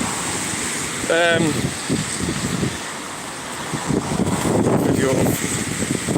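Strong storm wind buffets the microphone in a constant roar beside a road with traffic, with voices briefly audible beneath the gusts.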